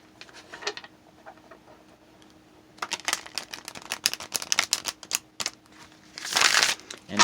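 Tarot cards being shuffled by hand during a reading, starting with a short soft riffle, then a dense run of quick crisp flicks and taps, ending in a louder burst of cards riffling together, close up with no talk.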